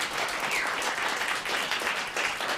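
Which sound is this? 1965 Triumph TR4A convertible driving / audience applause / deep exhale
audience applause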